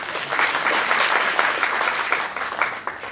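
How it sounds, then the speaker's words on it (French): A storytelling evening audience applauds loudly and steadily, a dense wash of many hands clapping close up that fades slightly toward the end. "Applaudissez encore très fort pour vous."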